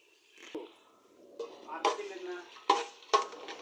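Whole bay leaves and garam masala dropped into hot oil in a pot for biryani, giving a soft sizzle with scattered clinks and stirring scrapes, several sharper knocks of a utensil against the pot near the end.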